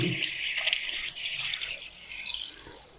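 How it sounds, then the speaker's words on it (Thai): Tap water runs steadily into a bathroom sink for hand washing, a continuous close hiss and splash with small fluctuations and no voices. "แล้วก็ เราก็เปิดน้ำล้างมือ"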